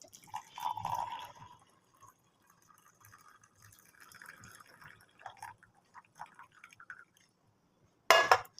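Mint tea poured into a cup holding a mint leaf, a trickling liquid stream and faint drips near the start, then quiet handling and a sharp clink of the cup at the end.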